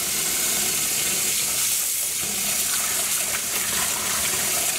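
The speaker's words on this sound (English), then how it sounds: "I'm changing the water again" Tap water pours steadily into a dye pot as the dye bath is changed, a loud, continuous, close hiss and splash with no voices.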